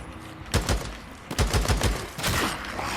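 Gunfire in the video game Days Gone comes in several sharp rapid bursts, loud and close, with short gaps between the volleys.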